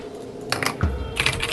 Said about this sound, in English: I could hear you typing regardless